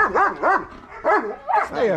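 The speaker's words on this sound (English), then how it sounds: "what you barking about" A dog barks repeatedly outdoors in a rural jungle setting in the Philippine provinces, about five close, loud bow-wow barks in an uneven rhythm with short pauses between them.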